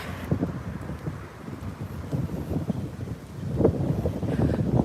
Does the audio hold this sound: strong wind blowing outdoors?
yes